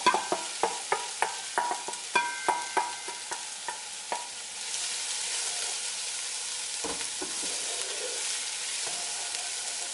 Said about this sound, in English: And I'm going to fry this off until it becomes slightly translucent.